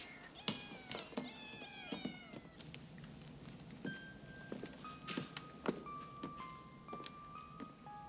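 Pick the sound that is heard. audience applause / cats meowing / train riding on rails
cats meowing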